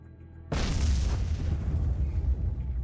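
A heavy artillery explosion in the sci-fi train RTS game Miners Mettle hits suddenly with a deep boom, then sustains a rumbling roar at close range for over two seconds with no voices.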